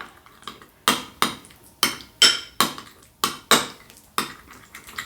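A spoon repeatedly scraping and clinking against a bowl as a pumpkin and chocolate snack is mixed, about ten sharp, evenly spaced knocks, close and clear with no talk.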